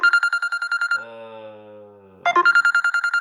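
Mobile phone ringing, a rapid train of loud electronic beeps that pauses for a lower sliding tone before the beeping pattern resumes.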